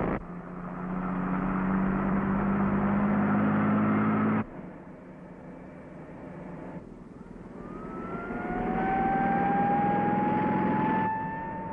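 A 1941-era car engine droning as it speeds along, loud and steady, dipping for a few seconds before rising in pitch again, with no talk.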